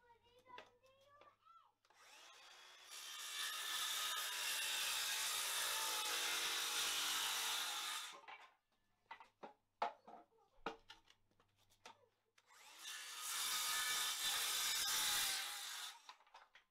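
Two long stretches of loud, harsh power-saw cutting, close by, separated by a pause filled with clattering and brief voices.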